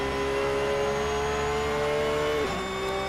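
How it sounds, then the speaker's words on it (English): A GT3 race car at speed on the Spa circuit, a steady loud engine drone with a high tonal gearbox whine layered over it, pitch dipping briefly near the end. "a lot of gearbox whine"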